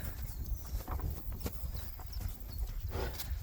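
Horses shifting about outdoors, with soft hoof thuds and rustling movement against a steady low background rumble, no talking.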